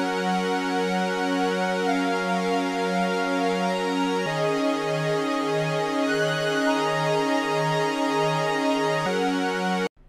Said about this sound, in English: We have some synth chords here.